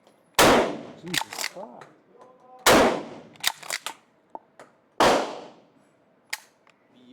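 A pump-action shotgun at a gun range fires three loud, close blasts about two and a half seconds apart, each followed by the clack of the pump action, with a voice exclaiming in between.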